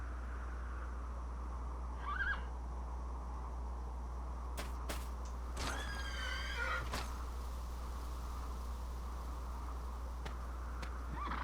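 A horse in a video game neighs with a faint, brief whinny early on, then a longer, louder wavering neigh midway, with a few sharp clicks scattered around it.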